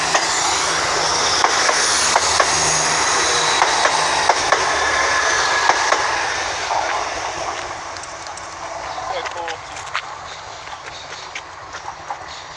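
A train passes through Norwich station with rhythmic clickety-clack of wheels over rail joints and a steady rolling roar that fades as it moves away.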